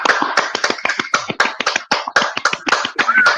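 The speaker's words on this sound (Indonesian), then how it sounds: "Tepuk tangan dulu teman-teman." An audience at a debate event claps in a quick, uneven burst of applause, sharp hand claps crowding together close by without talk.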